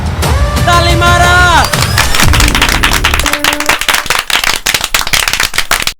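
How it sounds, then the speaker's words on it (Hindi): Sharp, loud claps from a small group at a family gathering, overlapping with music and voices at first, then a dense run of crisp claps that carries to the end. "ताली मारा।"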